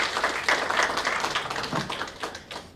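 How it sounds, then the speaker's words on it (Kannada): An audience claps for a songwriter who wrote five songs for a debut film. The applause is scattered and uneven, with sharp separate hand claps rising and falling in quick bursts. "ದಯವಿಟ್ಟು ಅವ್ರಿಗೆ ಒಂದು ಚಪ್ಪಾಳೆ ಹಾಕೊಳ್ಳಿ."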